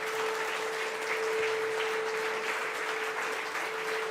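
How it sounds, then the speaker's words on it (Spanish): A church congregation claps in praise to the Lord, a sustained even wash of many hands under a steady electronic hum, with no voices standing out. "Denle un aplauso al Señor."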